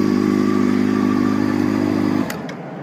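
A 2001 Honda CBR600 F4i with a Two Bros exhaust holds a loud, steady, buzzing engine note up close, then the throttle drops and the sound falls away abruptly near the end.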